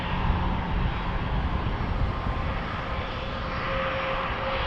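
Heavy airliners at Minneapolis St. Paul airport produce a steady, loud jet engine roar that fills the whole stretch, with a broad low rumble and no voices over it.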